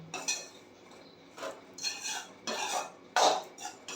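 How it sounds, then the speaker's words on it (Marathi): A spoon scrapes repeatedly around a pan as finger millet flour is dry-roasted, with soft close bursts of stirring separated by brief quiet gaps. "1 मिनिट मी हे भाजून घेणार आहे आणि मग गॅस बंद करणार आहे."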